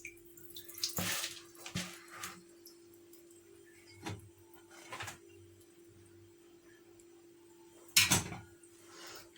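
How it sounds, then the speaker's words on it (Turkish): Water poured over stuffed peppers in a pot in a small kitchen, heard as a few brief splashes and trickles spaced through the stretch over a faint steady hum, close by, with no talking. "Biraz tuzlu suyu gitsin diye biraz üstünde su atıyorum."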